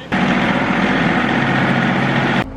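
A Case tractor engine idles steadily just after being started, a loud, close, continuous low rumble that holds even for about two seconds and then cuts off abruptly.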